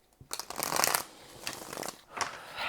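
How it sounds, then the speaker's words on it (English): Tarot cards are shuffled in three quick riffling bursts, close and crisp, with brief pauses between them and no talking. "I'm going to do one more shuffle."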